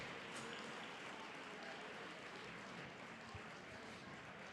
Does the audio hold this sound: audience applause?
yes